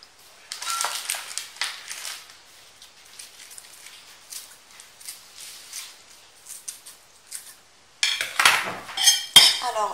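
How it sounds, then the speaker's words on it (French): Tuna mashed with soft cream cheese and chives is stirred in a bowl for stuffing little bread rolls, giving repeated light clinks and scrapes of a utensil, with a louder, busier burst of clatter near the end. "je mélange correctement ma farce et je commence à farcir mes petits pains"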